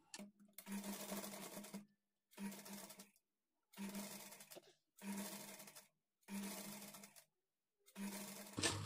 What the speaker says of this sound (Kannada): ಸ್ಟಾರ್ಟಿಂಗು ಎಂಡಲ್ಲಿ ರಫ್ ಹೊಡೆದು ಸ್ಟಿಚ್ ಮಾಡ್ಕೊಳ್ಳಿ.